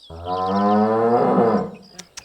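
A buffalo moos once, close and loud: a long, deep, drawn-out call of about a second and a half that tails off, followed by two faint knocks.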